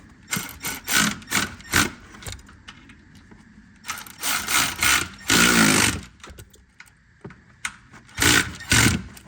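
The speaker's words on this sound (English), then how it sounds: "Come in and tighten the bolts." A power tool tightens bolts on a ride height sensor of a Trailblazer, Envoy, Buick Rainier or Saab 9-7X, running in repeated short whirring bursts with one longer run, close up and loud.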